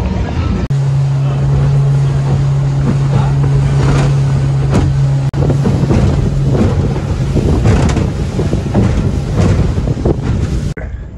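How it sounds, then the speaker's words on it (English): A motorboat engine drones steadily as the boat crosses open water on Lake Atitlan, Guatemala, from Panajachel, with heavy wind buffeting the microphone and splashing throughout on a bumpy ride. "It's a little bit of a bumpy boat ride"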